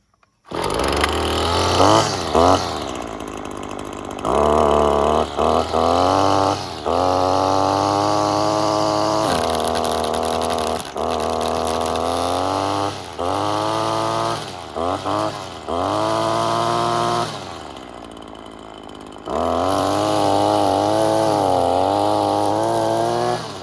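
A Husqvarna 322L straight shaft string trimmer engine running loud and close, a buzzing two-stroke drone that revs up and settles back in several surges, briefly dropping between bursts before roaring again.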